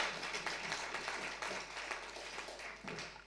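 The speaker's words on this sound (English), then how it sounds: "I would also like to ask you to give a big applause for this" An audience at a gender and climate justice event applauds an initiative, a faint, steady wash of clapping that swells and fades slightly over a few seconds, heard from a distance.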